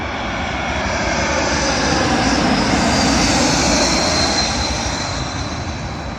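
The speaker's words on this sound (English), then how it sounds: "Arriving in now, the Swiss Airbus A220" A Swiss Airbus A220 airliner arrives at London Heathrow on runway 27L, its broad jet engine roar swelling and then easing as it passes close and loud, with no voices.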